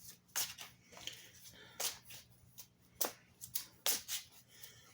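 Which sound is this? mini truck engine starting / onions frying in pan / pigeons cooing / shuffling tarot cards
shuffling tarot cards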